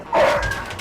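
A police dog gives a short, sharp bark, close and loud, with no talking over it.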